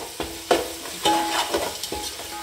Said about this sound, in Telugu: ఇది కూడా పచ్చిమిర్చి అల్లం కూడా కొంచెం ఫ్రై కావాలండి